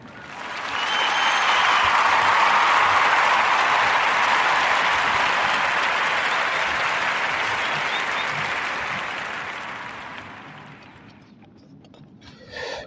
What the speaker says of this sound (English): give a Narrative Podcast warm round of applause for all the Black-owned businesses that I just got through highlighting